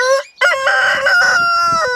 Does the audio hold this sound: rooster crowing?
yes